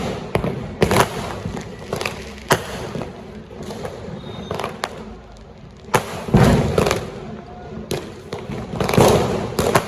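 Diwali firecrackers, including a 12-shot cracker, burst outdoors in a rapid, irregular string of loud bangs and thuds, some nearer and some farther away, continuing throughout.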